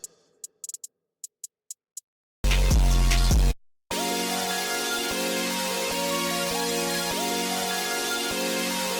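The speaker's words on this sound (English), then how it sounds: "you can start the drums off with just some hi-hats" A few sharp ticks open, then a short burst of full sound, before a steady electronic beat loops with crisp repeating hi-hat-like ticks over sustained synth tones.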